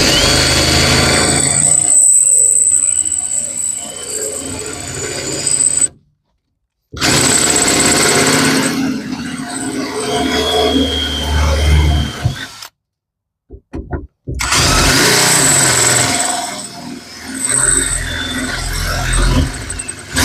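A power drill with a 6.5 mm bit grinds loudly through a metal weld on a Renault Master van in long bursts, cutting off briefly between passes and then starting again.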